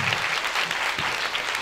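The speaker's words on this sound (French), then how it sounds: "Donc vous pouvez les applaudir pour cette présentation." Dense, steady applause from a conference audience greeting the presenters of a talk on the Mars Express mission, a continuous wash of many clapping hands, loud and even throughout.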